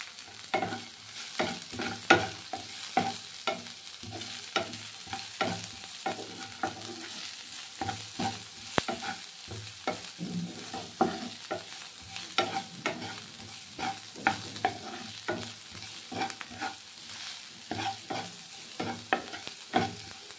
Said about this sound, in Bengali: পেঁয়াজটা ভাজার সময়ই একদম অল্প করে একটু নুন দিয়ে দেবো।